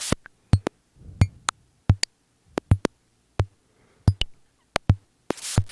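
A Nord Micro Modular synth patch: sparse, sharp glitchy clicks and ticks with soft low thumps, irregularly spaced over near silence.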